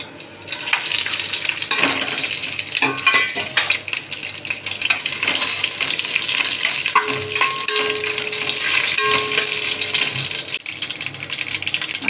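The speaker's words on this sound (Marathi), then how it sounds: "आता हे काही खडे मसाले आहेत हे आपण यात घालूया" Whole spices frying in oil and ghee in a cooking pot, a continuous loud close sizzle with stirring and clanks of a utensil against the pot throughout.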